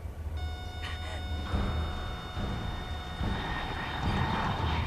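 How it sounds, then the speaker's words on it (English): MiG jet aircraft in the video game Metal Gear Solid 3: Snake Eater roar past with a sustained whining engine drone, building slightly louder toward the end over a low rumble. "Oh no, Migs!"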